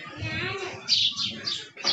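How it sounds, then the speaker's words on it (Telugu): Birds chirp around a house, a few short bright tweets and calls in quick bursts, fairly close and moderately loud, with a voice speaking under them at the start. "మా ఇంట్లో అయితే పక్షులు అరుస్తూనే ఉన్నాయి, పక్షుల శబ్దాలు ఫుల్ వస్తున్నాయి."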